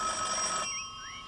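A telephone rings with a bright, buzzing bell tone that cuts off partway through, leaving a quieter electronic hum behind.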